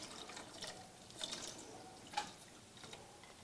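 Water runs into a pot of carrots in a kitchen, a soft splashing and trickling stream, faint and close, with small gurgling spikes.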